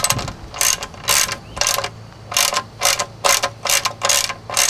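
Wrench loosening the oil drain plug on a 1991 Mercedes-Benz 420 SEL, giving loud, close bursts of rapid ratcheting clicks, about ten strokes in an even back-and-forth rhythm with short pauses between.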